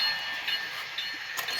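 HO scale model train running on a layout, a faint, steady whirring hum of the small motor and wheels on track, with no clear clicks or horn.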